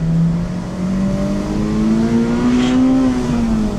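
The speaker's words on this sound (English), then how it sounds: "it revs so fast!" An old Honda car's engine revs up steadily while driving, a loud rising whine held close and continuous, easing slightly near the end.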